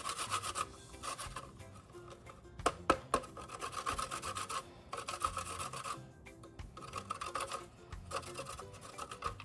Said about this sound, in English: I have a little piece of ginger that I'm also gonna grate into my sweet potato